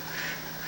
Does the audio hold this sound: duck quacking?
yes